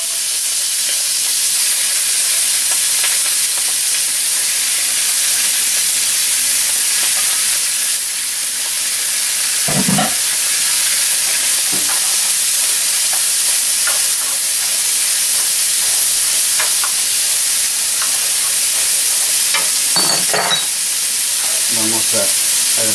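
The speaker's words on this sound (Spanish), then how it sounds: "Vamos a sofreír los camarones." Shrimp sizzle as they sauté in a pan for a paella with shrimp and lobster, a steady close frying hiss running throughout with occasional stir clatters and no talk.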